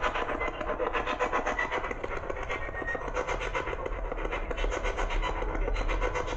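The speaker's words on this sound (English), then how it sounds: "The train going off in the background." A train passes in the background near the Villisca Ax Murder House, a continuous rushing rumble with scratchy textures that holds steady throughout with no speech.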